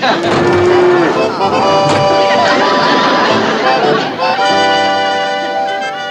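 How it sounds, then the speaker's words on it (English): A cow mooing loudly from inside an enclosed space, a long drawn-out bellow that dominates the scene over steady background noise. "Sounds like a cow's in there."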